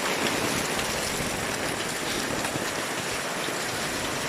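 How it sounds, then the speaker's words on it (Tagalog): Heavy rain pours down during flooding in a dense, unbroken hiss, loud and steady throughout, with no voices. "tuloy-tuloy ang buhos ng ulan"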